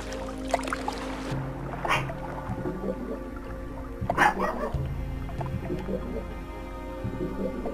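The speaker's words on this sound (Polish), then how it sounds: "Co za pies. Będzie szczekał, kurde, jak zwykle." A dog in the video game Gothic 2 barks a few times in short, scattered bursts over an ambient game background.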